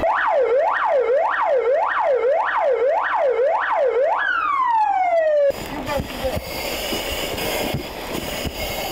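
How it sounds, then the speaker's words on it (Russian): Emergency vehicle sirens wail at an MChS rescue drill in Novoulyanovsk, with ambulances, gas service and fire trucks present: a loud, repeating rising-falling wail for about four seconds, then a sliding tone, giving way to busy crowd and street noise. "Вой сирены, автомобили скорой и газовые, пожарные."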